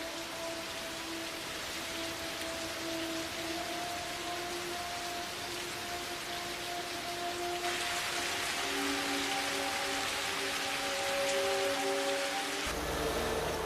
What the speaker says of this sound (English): This endless rain creates a problem even bigger than mud.